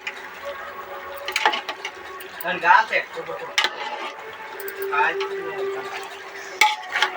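Country chicken curry being stirred and fried in a pan, with repeated scraping and clinking of a spoon against the metal pan and a faint sizzle, close up, with a voice talking at times.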